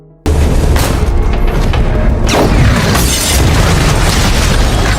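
A sudden, very loud blast of an explosion in a shop in an action film, followed by seconds of sustained roaring rumble and crashing debris, with no speech.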